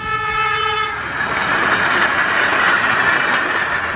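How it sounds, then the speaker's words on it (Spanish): A train passes a level crossing, its horn blaring in a loud sustained harmonic blast for the first second, then giving way to a steady, close roar of rolling wheels and rail noise. "Incluso aceleró el paso cuando notó que se acercaba un tren"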